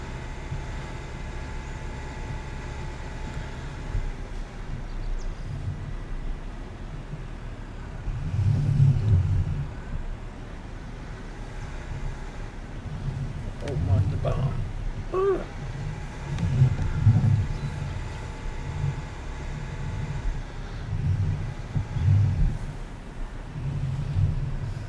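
A tractor engine in the video game Farming Simulator 19 drones steadily throughout, a low continuous rumble with a few swells as it works harder, heard alone without talk.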